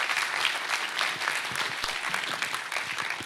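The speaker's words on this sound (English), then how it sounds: "Please give our panelists a round of applause." An audience applauds panelists at an economic summit, a steady wash of clapping from many hands at moderate volume with no speech over it.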